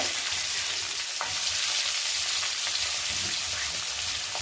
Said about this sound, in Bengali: ভেজে নেবো পেঁয়াজটা